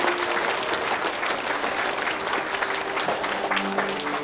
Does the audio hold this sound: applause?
yes